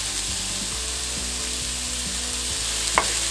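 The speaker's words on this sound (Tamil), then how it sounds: "இதையும் போட்டு நல்லா அந்த வெங்காயத்தோட நல்லா மிக்ஸ் பண்ணி வதக்கிட்டே இருங்க." Carrots and beans sauté with onion in a pan for upma, a continuous even frying hiss with faint stirring scrapes and a small knock near the end.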